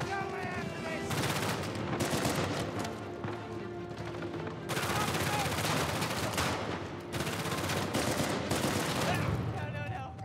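Shotgun pistols firing in the video game Uncharted 4: loud, close gunfire in dense rapid volleys, three long sustained bursts separated by brief gaps, with no talking.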